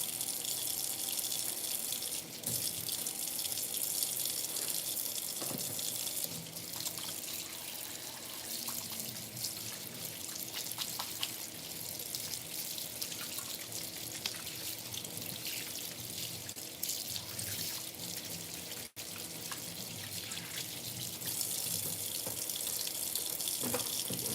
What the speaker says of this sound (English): Rinse my sink.